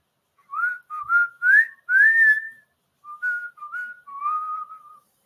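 A person whistles a short, clear melodic phrase during a school lesson, in several rising and falling bursts with brief gaps, alone and fairly loud with no talking.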